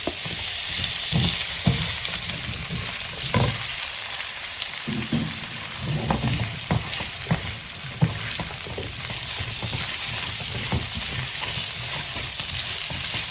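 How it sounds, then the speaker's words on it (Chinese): Potato slices stir-fried with dried chili and Sichuan peppercorns in hot oil: a steady, close sizzle with scraping stir strokes and spatula clatter running throughout. "花椒粒放了以后，快速的翻炒，马上就下土豆片。"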